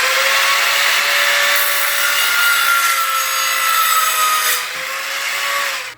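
A handsaw or power saw cutting a piece of wood along a marked line, a steady, loud, close rasping whine that holds evenly for several seconds before tapering off, with no talking.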